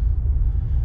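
A Jeep Commander V8 fitted with a Flowmaster Super 44 exhaust rumbles with a deep, loud, steady low drone at close range, with no talk over it.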